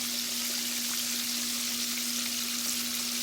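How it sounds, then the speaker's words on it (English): Chicken leg quarters, fully submerged in a pot of deep-frying oil, give off a loud, continuous, dense crackling sizzle that holds steady throughout, with a constant electric hum underneath. "Deep frying is a little different."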